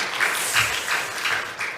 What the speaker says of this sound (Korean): 우리 여신도회들을 위해서 박수 한번 주시기 바랍니다